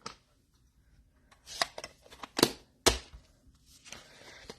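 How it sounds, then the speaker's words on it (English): Several sharp plastic clicks and snaps, scattered irregularly, as small ink pad cases are pressed shut close by, with quiet pauses between them. "Let me close these inks up now that I know I'm done."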